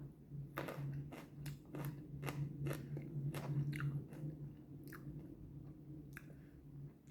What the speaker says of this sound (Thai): มื้อนี้เฮาก็สิมากินลูกแอปเปิลอ่อนเนาะจ้ะ อันนี้เป็นของฝรั่งเศสเด้อจ้ะนำเข้าจากฝรั่งเศสเนาะ